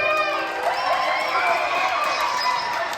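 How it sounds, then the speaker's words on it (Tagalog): A crowd at a baby dedication shouts and cheers for Kuya JJ, with high excited voices and children's shrieks blending into a continuous, lively roar. "Sigawan at hiyawan naman para kay Kuya JJ!"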